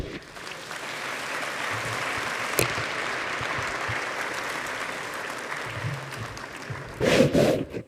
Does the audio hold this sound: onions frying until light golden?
no